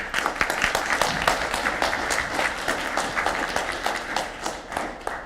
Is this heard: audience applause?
yes